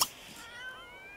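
A house cat in The Sims 3 lets out a single short, fairly quiet meow that starts with a brief sharp onset and trails off into a soft tonal tail.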